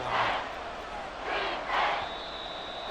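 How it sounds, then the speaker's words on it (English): Stadium crowd noise from the Madden NFL 24 video game during a Texans at Panthers matchup, a steady roar that swells in three loud surges, no one talking over it. "The crowd's not doing that O-line any favors."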